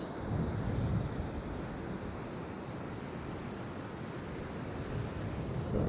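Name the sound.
waves on a golden sandy beach in Konkan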